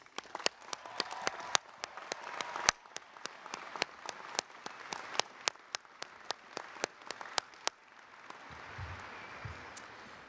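Applause from a large crowd at a university spring commencement in a stadium, honoring the graduating class; a steady wash of clapping with sharp individual claps standing out, fading toward the end.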